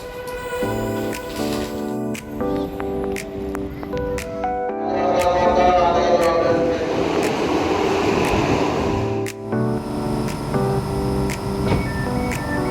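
A KRL commuter train ride in Jakarta, with a steady rumble of the moving carriage, rhythmic rattling and metallic squeals and hums rising and falling, loud and continuous throughout.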